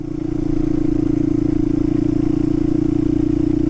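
An old motorbike engine runs steadily close by, a loud, even idling throb with a constant low hum that holds without revving, heard alone.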